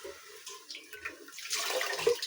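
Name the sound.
rinsing tomatoes and onions with clean water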